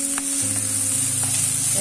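Capsicum and mixed vegetables stir-fried in a hot pan for spring roll filling give a steady close sizzle with light stirring scrapes, continuous and alone for the whole stretch.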